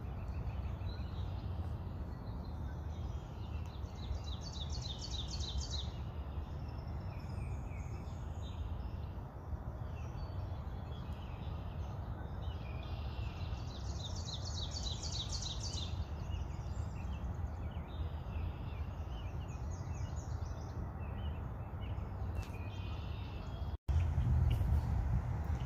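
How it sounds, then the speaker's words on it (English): Warblers sing repeated high, buzzy trills from some distance in an open field, over a steady low wind or rumble. The phrases recur several times in the background, and there is no talking. "Two unknown warblers."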